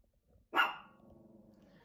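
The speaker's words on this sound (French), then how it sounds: "elle voit tout ce qui se passe et elle aboie" Marley the dog barks once sharply from a spot by the window, followed by a softer lingering growl or whine, with no talking over it.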